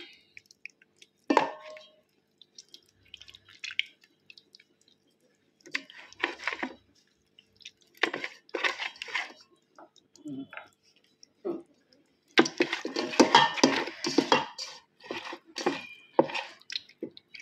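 Chicken pieces for KFC-style fried chicken being massaged by hand with salt, chili, ginger-garlic paste, lemon juice and curd, giving close, wet squishing and sticky clicks in short irregular bursts separated by quiet gaps.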